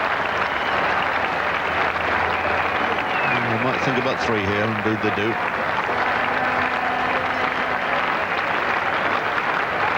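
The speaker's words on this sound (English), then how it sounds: "So applause for the 50 going up" Cricket crowd applause at The Oval during the 1984 England v West Indies Test, greeting England's 50: a steady, distant wash of clapping under a commentator's talk.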